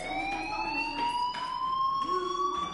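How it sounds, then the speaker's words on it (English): A fire alarm rings in the video game Life Is Strange as a steady, piercing electronic tone that drones on continuously, with faint intermittent background sounds beneath it. "Hey, do you hear that fire alarm?"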